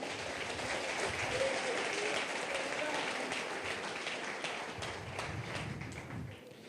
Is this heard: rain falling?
no